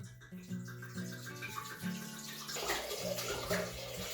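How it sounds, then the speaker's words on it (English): Wine poured into a deep pan in a kitchen, a steady continuous liquid splash under soft background music. "put the wine in the pan"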